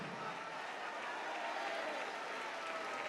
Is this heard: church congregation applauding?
yes